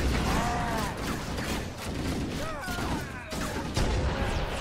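Gunfire in the Halo 1 video game (Master Chief Collection), a clatter of shots amid whooshing weapon effects and chirping alien sounds, busy and moderately loud throughout with occasional voices.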